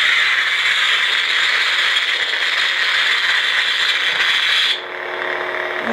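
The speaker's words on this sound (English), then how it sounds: "And one more time with the lockup." Novastar Flange lightsaber on an older Rebel 3-up hilt in lockup, a loud, continuous crackling, buzzing sizzle held steady for several seconds before cutting off abruptly into a softer hum.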